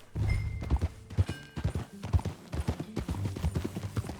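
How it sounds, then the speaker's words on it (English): Horse hooves clip-clop at a steady walking pace in Red Dead Redemption 2, close and clear, with rhythmic thuds and a snort or whinny mixed in. "That a new horse?"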